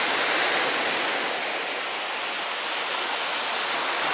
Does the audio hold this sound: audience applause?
no